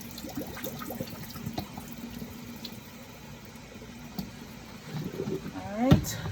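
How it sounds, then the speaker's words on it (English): Cold tap water runs over boiled dumplings in a basin, a soft steady splashing and trickling at low level, with a voice speaking briefly toward the end. "I'm going to run some cold water over them"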